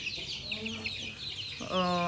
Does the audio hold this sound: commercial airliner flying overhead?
no